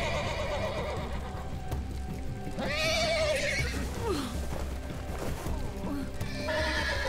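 In The Walking Dead video game, a horse whinnies loudly twice amid steady clip-clop of galloping hooves, with a tense ambient backdrop running underneath.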